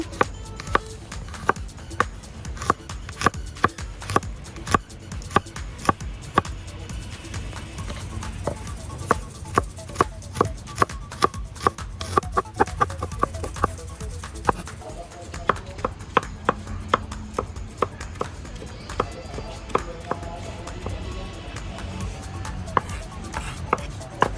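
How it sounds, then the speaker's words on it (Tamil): Garlic cloves are chopped small with a knife while a Sri Lankan curry is prepared. The sharp knife strikes on the board come close and quick, in irregular bursts for more than twenty seconds, with no voices. "இந்த உள்ளியை வந்து நல்லா சின்ன சின்ன வெட்டி எடுக்கிறா."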